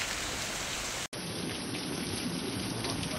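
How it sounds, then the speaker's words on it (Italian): Heavy rain pours steadily during a flood in Barcellona Pozzo di Gotto, Sicily, with a lightning storm overhead; a dense, loud, continuous hiss of rain is broken by a brief dropout near the start. "Un fulmine ha preso la palmara e l'ha fatta prendere a sfuoco"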